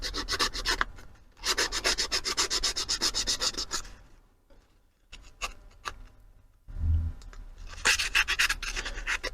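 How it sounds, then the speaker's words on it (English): Quick back-and-forth rubbing strokes of a small piece of sandpaper scrubbing electrical connector pins on a BMW E92 coupe folding mirror, in two bursts separated by a quieter pause with a few scattered ticks. "So just take your whatever little piece of sandpaper you have,"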